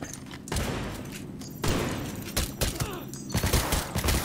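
Gunfire in Cyberpunk 2077 fight sequence: dense bursts of rapid shots and heavy impacts fill the clip, loud and close, with brief lulls between volleys and a voice faintly underneath.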